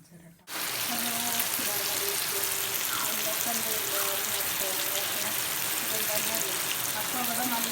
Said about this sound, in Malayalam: ഞാനിപ്പോൾ മീനൊക്കെ വറുക്കുന്നു